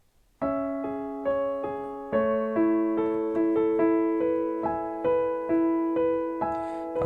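Piano playing the closing bars of a song intro, a steady pulse of repeated chords struck about twice per second, each decaying before the next, clear and close with no talk.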